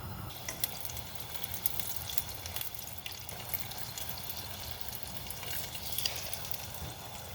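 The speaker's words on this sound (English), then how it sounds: "I'm gonna start frying them" Food frying in hot oil while sugar cookies are made, with a steady crackling sizzle and scattered sharp pops close by, continuous and without talk.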